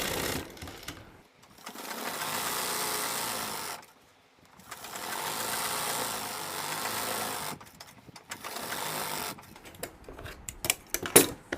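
Electric sewing machine stitching a seam on a Pakistani salwar, running in steady bursts of rapid needle whirring separated by short pauses, ending in quicker stop-start stitches.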